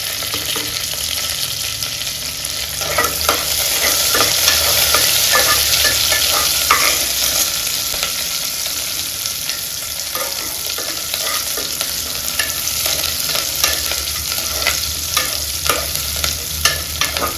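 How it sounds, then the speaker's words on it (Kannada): Curry leaves sizzling in hot oil for drumstick dal sambar, a loud, continuous crackling fry with constant stirring close by, no voices. "ಕರಿಬೇವು ಸೊಪ್ಪು ಹಾಕ್ತಾಯಿದ್ದೀನಿ"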